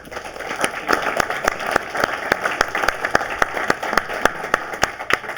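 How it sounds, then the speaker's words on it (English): A seminar audience at a real estate talk claps, with a dense crowd patter and several sharper, rhythmic claps standing out close by, sustained steadily throughout. "You can clap that shit up."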